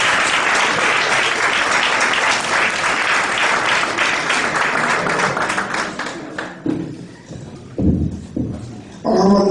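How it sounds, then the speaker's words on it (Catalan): A crowd at an outdoor community paella gathering claps, loud and dense at first. The applause tapers off after about six seconds, leaving scattered claps and a few voices. "Un aplaudiment pel Pere Martí."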